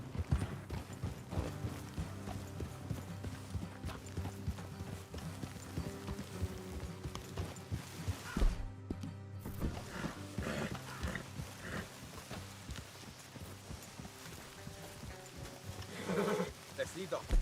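Horse hooves clip-clop in a steady walking rhythm in the game Red Dead Redemption 2, joined by a brief whinny, while characters talk over the hoofbeats throughout.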